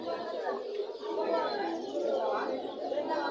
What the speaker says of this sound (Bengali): আপনারা স্ক্রিনে দেখতে পাচ্ছেন খুব সুন্দর এক জোড়া ঘুঘু, অস্ট্রেলিয়ান ঘুঘু।